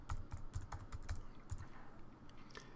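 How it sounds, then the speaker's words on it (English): Quick, irregular clicks of keys on a computer keyboard sound in short bursts, a run of fast taps followed by a few scattered strokes, soft and close. "I'm going to type here Whole Foods"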